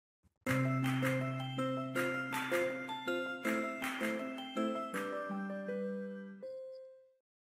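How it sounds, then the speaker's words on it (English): Bright tinkling test chimes from HP's audio check tool ring out in a quick descending-and-rising series of overlapping bell-like tones, sustained and clear, ending with a single held note that fades away. "select Test Audio and then listen again for the chimes to play"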